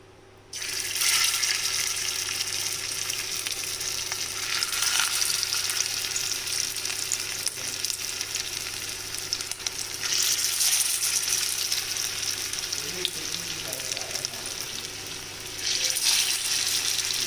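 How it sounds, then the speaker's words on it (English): Potato tikkis shallow frying in hot oil in a pan give a steady, loud broadband sizzle, surging brighter in a few stretches with crackling bursts, no voices over it. "Now we will shallow fry the tikkis."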